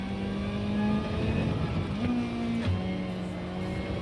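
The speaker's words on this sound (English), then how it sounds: "I was just listening to the engine" A race car engine in the Gran Turismo 7 game holds a steady, fairly quiet mid-pitched drone with small rises and dips in revs, heard alone without talk.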